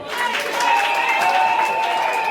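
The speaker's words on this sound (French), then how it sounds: "Vos applaudissements." Wedding audience applauding steadily and fairly loud throughout, a dense wash of clapping with a sustained tonal hum or music line running underneath.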